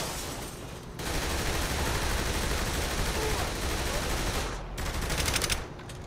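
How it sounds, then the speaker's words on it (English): Drive-by gunfire in Saints Row: The Third Remastered: sustained rapid automatic shooting bursts fill most of the moment, dense and loud, pausing briefly before another burst. "Oh, a drive-by."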